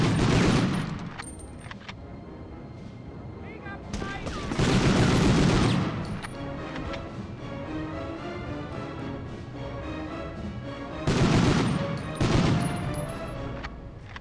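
Intermittent heavy gunfire in the PS1 war shooter Medal of Honor: loud bursts of rapid shots come in clusters, with softer game ambience and scattered distant pops between them.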